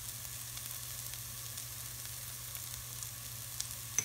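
Onions and spices for a drumstick curry in mustard gravy sizzle steadily in a pan, a constant close hiss with no talk and only a faint clink near the end.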